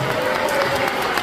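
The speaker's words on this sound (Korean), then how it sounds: "박수하겠습니다." An indoor crowd at a church press conference breaks into applause, a dense steady clatter of many hands clapping throughout, loud and close, with a faint voice underneath.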